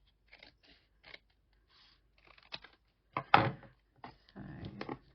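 Scissors cut card paper for a handmade card in a quiet room, a few short snips followed by a louder, longer crunching cut near the end, close and alone.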